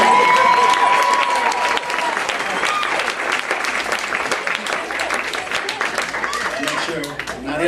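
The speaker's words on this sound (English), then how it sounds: "Not everybody was clapping," A comedy club audience applauds loudly and steadily at a stand-up show, dense clapping mixed with some cheering and crowd voices that carries on across the whole stretch.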